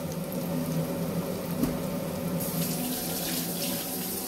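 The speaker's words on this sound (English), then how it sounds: "you want to wash your hands." Tap water runs steadily into a sink as hands are washed in a kitchen during trout preparation, a continuous broadband splash that grows brighter and louder partway through, with no talking.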